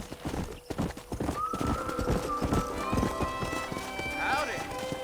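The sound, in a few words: horse hooves clip-clopping and neighing in video game Red Dead Redemption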